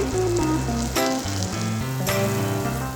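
Mushrooms sear undisturbed in a hot pan with a loud, steady sizzle that runs through the whole short stretch, accompanied by a continuous tonal background.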